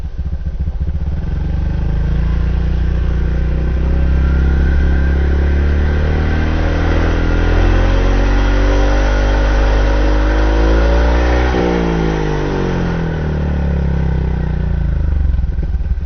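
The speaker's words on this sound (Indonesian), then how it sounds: "Kita mau denger suara knalpot motor itu realnya itu berapa dB" A loud motorcycle exhaust passes outside an open window, its engine note rising and falling as it revs, with a drone that holds steady for sixteen seconds and a pitch sweep near the middle as it goes by.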